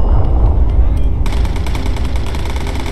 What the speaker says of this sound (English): We're over the target. Bombs away.